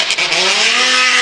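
A drift car at Formula Drift Atlanta screams past with a high, sustained engine whine and tire squeal, loud and close for a brief moment.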